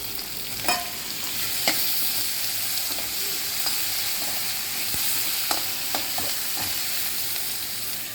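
Onion and tomatoes fry in a pan with capsicum, giving a steady close sizzle punctuated by occasional clinks and scrapes of stirring.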